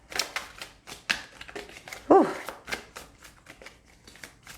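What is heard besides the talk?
shuffling tarot cards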